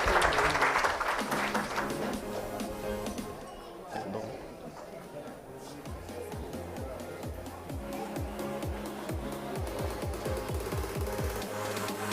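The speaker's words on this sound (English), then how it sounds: "Please, big round of applause for Project Srishti." An audience applauds at an award ceremony during a sustainability education conference, the clapping strongest at first and then continuing beneath music and voices.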